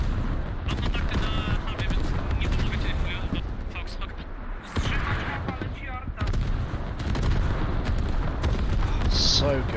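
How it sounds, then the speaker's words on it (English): An artillery barrage on the Mutaha map in Arma pounds away in a dense, continuous rumble of heavy blasts and crackling gunfire, with sharp impacts scattered throughout and voices talking over the din. "So good, I love these artillery barrages."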